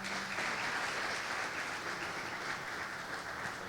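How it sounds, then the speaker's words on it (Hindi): Steady, dense applause from a large church congregation, continuous and even throughout, with no pauses. "जोरदार तालियां"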